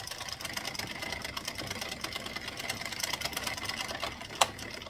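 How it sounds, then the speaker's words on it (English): An Addi circular knitting machine is hand cranked at a steady pace, giving a continuous fast mechanical clatter like a sewing machine. The sound stays close and unbroken, with one sharp click near the end. "from here on in, you can see it is just hand cranking beautifully"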